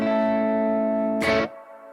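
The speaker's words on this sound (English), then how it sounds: "There's my reverb." A sustained electric guitar chord rings out under a spacious reverb from a GT1000 Core effects processor, then a short bright strum cuts in and fades into a lingering echo.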